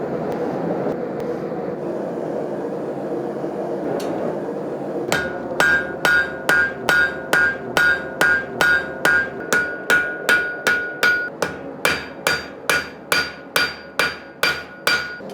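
A hot knife blade being flattened at a forge: after a few seconds of low hum, a steady run of loud, evenly paced metallic hammer blows rings out, about two strikes per second, close and clear with no talk.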